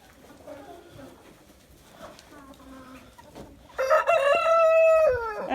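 In a winter chicken pen, a rooster gives soft low clucks, then breaks into one loud, drawn-out crow close by, alongside faint chicken sounds.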